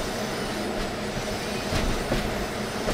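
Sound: train running in a train-driving video game

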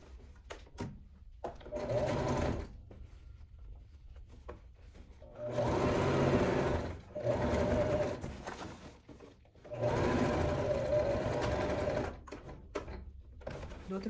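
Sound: sewing machine stitching nylon bag lining pieces together

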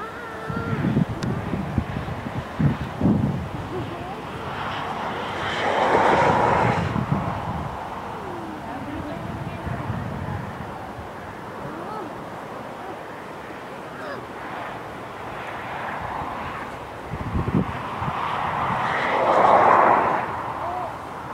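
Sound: Ryanair Dreamliner airliner taking off at Cork Airport

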